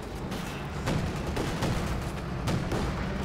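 Battle in Company of Heroes 2 with a Flak Panzer and Panzer IV firing, rapid bursts of gunfire and muffled booms in dense overlapping volleys, a few sharper cracks standing out.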